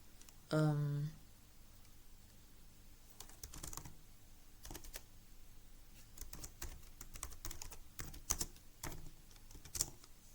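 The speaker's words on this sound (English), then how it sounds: "let me type something. So I'll type" Scattered keystrokes tapped on a computer keyboard during a PowerPoint lesson, irregular clicks of moderate loudness spread over several seconds after a short tonal beep, with no talking.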